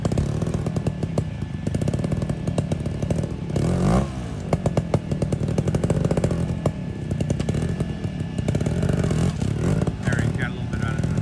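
A trials motorcycle idles and revs at a national trials round in Nebraska, its engine buzzing and clattering with sharp throttle blips, while voices talk nearby.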